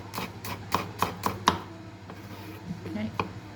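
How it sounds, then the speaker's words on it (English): Garlic being chopped finely with a knife on a cutting board: a quick run of crisp, close taps, then a few scattered chops, with low background noise throughout. "Slice the garlic in half, and then chop it finely."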